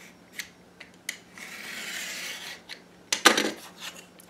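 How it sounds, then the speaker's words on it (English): A knife cuts through paper for an art journal, with faint taps as the blade is lined up, a soft sustained scraping slice, then a sharper rasping cut near the end, close and quiet. "I'm going to use the edge of my knife to sort of line everything up, and then I will cut through"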